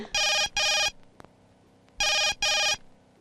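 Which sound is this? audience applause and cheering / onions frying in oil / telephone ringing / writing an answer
telephone ringing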